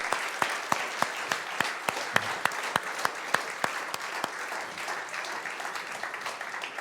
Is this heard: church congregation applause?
yes